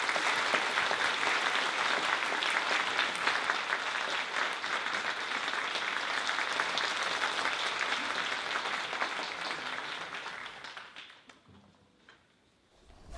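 Sustained audience applause in a university hall greets Okinawa Governor Denny Tamaki, a dense steady clapping that holds loud for about ten seconds, then fades and stops.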